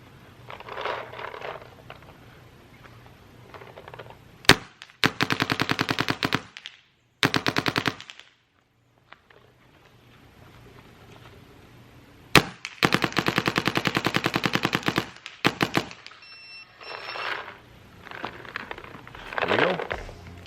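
Shocker RSX paintball gun firing in rapid, loud bursts of shots close by, separated by quiet gaps, with a few single shots and light handling noise between strings.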